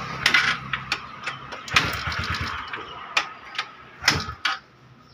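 A TVS Ntorq scooter with a starting problem cranks in repeated short bursts, each ending in a clicking tick, with a brief engine catch that drops away again, all close by.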